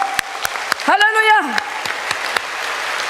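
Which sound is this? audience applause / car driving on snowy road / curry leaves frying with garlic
audience applause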